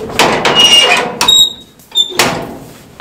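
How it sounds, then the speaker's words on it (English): The door of a horse trailer being converted into a chicken coop, swung and shut with a couple of loud, close thumps and metallic clunks in quick succession. "So this door, we'll still be able to shut it."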